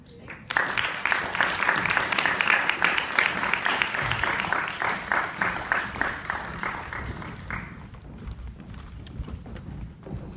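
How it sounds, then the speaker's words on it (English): A school awards audience claps steadily for several seconds, a dense sustained burst of applause that gradually thins and fades toward the end. "I just want to say another big round of applause for both of you."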